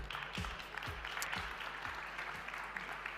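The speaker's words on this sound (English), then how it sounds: "And big applause for our panelists." Audience applause greets panelists taking their seats on the main stage of the Impact Festival 2021, a steady mid-level wash of clapping with low thumps beneath it and no talk over it.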